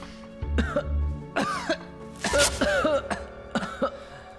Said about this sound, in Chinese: 一起咳嗽吧。